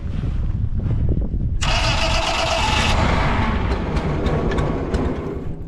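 Allis Chalmers G tractor engine cranking and catching in snow, a loud continuous mid-range running roar that sharpens with a bright hiss partway through, then settles into steady running with intermittent clatter.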